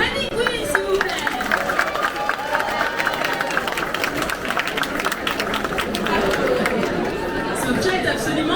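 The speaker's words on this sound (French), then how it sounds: "Et on applaudit Bunny Queen, s'il vous plaît." Festival audience at the Madin' Japan Festival in Madiana applauding a cosplayer on stage, a dense steady wash of claps and crowd chatter running through the whole stretch.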